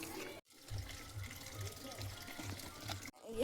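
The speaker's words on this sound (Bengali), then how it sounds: "গাছে জল দেবো" Water splashes and trickles steadily in a garden as plants are watered by hand, a continuous near pour with a brief gap, alongside faint voice.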